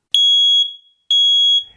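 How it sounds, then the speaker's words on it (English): Two loud, piercing electronic beeps from a smoke alarm with a low battery, each lasting about half a second, separated by a short silence. "the smoke detector alarm going off at 1 in the morning because the battery needs to be changed"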